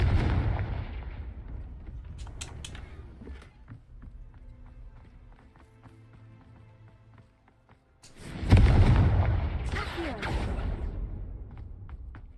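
In Hogwarts Legacy, quick footsteps and faint game effects lead into the Confringo spell, which lands as a sudden loud explosive blast partway through and then fades out in rumbling debris.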